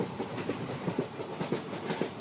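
A train rolls steadily along the rails with a rhythmic clickety-clack of wheels over joints, repeating evenly beneath a constant rumbling carriage noise.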